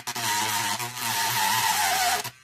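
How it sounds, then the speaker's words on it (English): A Dspiae cordless mini grinder grinds down a plastic model part, giving a steady, close, high-pitched whine that runs for about two seconds before cutting off. "So that's grinding away bits quite easily."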